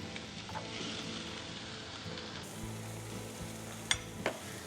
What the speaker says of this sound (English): while it's still smoking hot, I wanna add my apples and my onions. All goes in there.